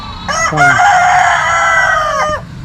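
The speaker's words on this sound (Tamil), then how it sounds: "இந்த கோழியெல்லாம் வந்து நேர்த்திக்கு கொண்டு வந்து கொடுத்துருக்கணும்" A rooster crows loudly and up close in one long, drawn-out call at a temple where chickens are brought as offerings, with a few faint clucks around it.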